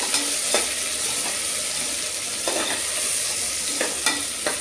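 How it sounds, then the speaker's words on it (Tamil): Mint leaves sauté in a pan with a steady, soft sizzle. Several sharp scrapes and clicks of stirring land at irregular intervals. "புதினா போட்டு கொஞ்சம் நல்லா வணக்கி வச்சுருவேன்"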